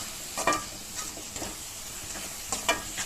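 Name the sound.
stirring cashews into coconut burfi mixture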